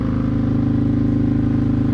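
A Victory Vegas motorcycle rides along with a loud, steady engine rumble and a rhythmic low thrum throughout, close and unbroken, with no talk.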